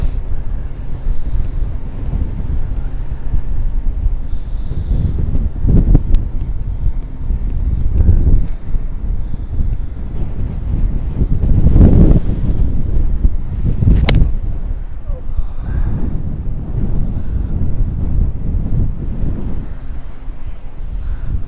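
Steady wind gusting across an open golf course, buffeting the microphone with a continuous low roar that swells and ebbs throughout, with no talk.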